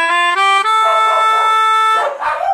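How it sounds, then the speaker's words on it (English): Dogs barking and howling nearby, loud drawn-out harmonic yowls and yips overlapping across a couple of seconds, rising and falling in pitch. "Instead, dogs are going nuts."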